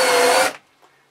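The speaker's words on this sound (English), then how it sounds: "I'm just going to countersink a little bit" A power drill with a countersink bit bores briefly into plywood, a steady whir for about half a second that stops abruptly and leaves near silence.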